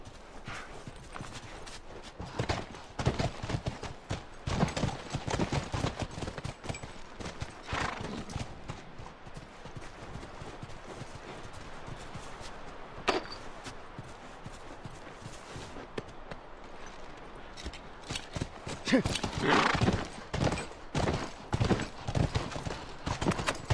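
Horses gallop in The Last of Us Part II, with fast, continuous hoofbeats that swell and fade over a long stretch, mixed with occasional whinnies and sharp bursts.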